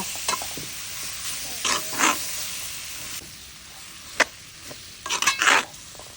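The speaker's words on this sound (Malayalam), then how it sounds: "നമുക്ക് നല്ല നിളക്കി കൊടുക്കാം കേട്ടോ" A spoon scrapes and stirs through thick meat masala curry in a frying pan, in short irregular strokes, with a soft sizzle underneath.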